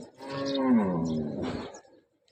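A cow moos once in a long, drawn-out, falling call, fairly close and clear, then fades to quiet with no talk over it.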